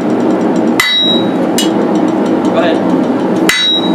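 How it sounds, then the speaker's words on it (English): Air hammer striking hot steel while forging a rounding hammer, three sharp ringing blows over a loud continuous mechanical hum, with brief talk. "explain why you went with an air hammer over like a tire hammer or some of those other ones"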